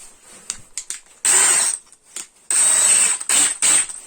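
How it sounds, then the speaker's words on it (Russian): A 9 mm drill bit bores out the centre of a threaded part from a broken foam gun, in four loud grinding bursts with short pauses between them and no talking. "И начинаю высверливать по центру."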